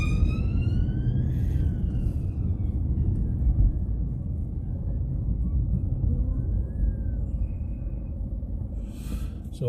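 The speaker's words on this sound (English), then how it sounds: "Oh, is that an ambulance? Looks to be an ambulance." An ambulance siren wails on a coast road in the rain, its rising and falling tone heard through a car interior over a constant low engine and road rumble, fading as it passes.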